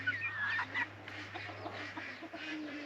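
Fowl call with short honk-like squawks near the start over a steady low hum and broadband room noise, from chickens being moved to a new house along with their brooders; faint and somewhat distant.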